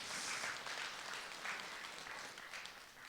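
Applause from a seated audience at a Buddhist temple talk on meditation, a soft, even patter of many hands clapping for about three seconds, fairly distant and faint, with no voices over it.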